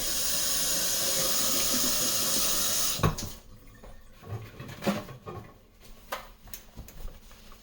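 An espresso machine portafilter is rinsed under a running tap, a steady loud hiss of water for three seconds, then the flow stops and scattered clanks and knocks of metal and a sink follow.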